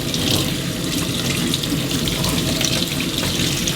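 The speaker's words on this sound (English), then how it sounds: "Turn the tap on, rinse through." A tap runs hard and steady while a dirty Gtech or Bissell AirRam vacuum cleaner part is rinsed under it, a close, loud continuous hiss and splash of water with no voices.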